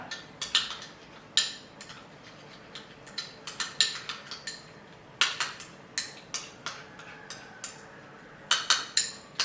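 A spoon mixing a curd and honey face pack in a small bowl, giving a steady run of light clinks and taps against the bowl's sides, close and fairly quiet, with no talking.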